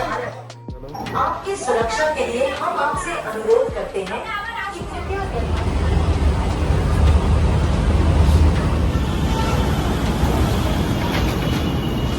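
A train pulls out of Parasnath station in Jharkhand, bound for Rishikesh. Voices and platform noise come first, then a loud, deep, steady rumble builds and continues to the end.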